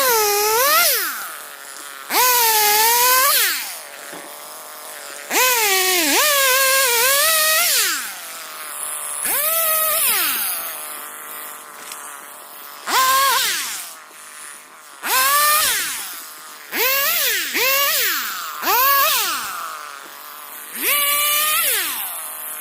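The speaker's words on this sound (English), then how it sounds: "I'm going to fire up the chainsaw and see if I can get to 6 more." A chainsaw cuts trees during selective hand harvesting in a forest, revving close and loud in repeated rising and falling bursts, with short idle gaps between cuts.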